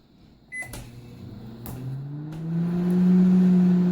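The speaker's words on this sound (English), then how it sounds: "I'm putting on this stupid microwave to make this stupid mini." A microwave oven hums steadily as it runs, the drone building louder toward the end, with a few clicks and knocks near the start and no talking.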